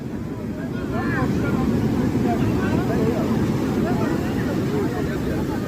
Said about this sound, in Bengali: প্রচণ্ড ঢেউ আজকে।